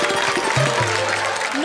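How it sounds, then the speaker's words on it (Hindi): Audience applause at a Hindi kavi sammelan poetry gathering: a brief burst of steady, dense clapping from a crowd, fairly close and even in level throughout. "तालियां बजाओ।"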